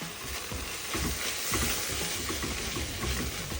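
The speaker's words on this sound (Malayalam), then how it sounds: "മഞ്ഞൾപ്പൊടി, മല്ലിപ്പൊടി, പെരിഞ്ജീരകം, കൂട്ടുമസാല എല്ലാം കൂടി ഇട്ട് ഒന്ന് മിക്സ് ചെയ്ത് കൊടുക്കാം" Turmeric, coriander powder, fennel and mixed masala fry and get stirred in a pan for Kerala chickpea curry, a soft steady sizzle with scraping spoon strokes, close-up and moderately quiet, no voices.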